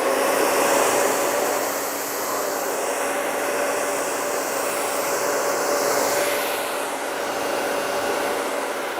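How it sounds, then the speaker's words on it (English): Blow dryer running steadily on hair, a loud, continuous whooshing roar held close for about nine seconds with slight shifts in airflow and no talking. "Now I'm just going to use my blow dryer"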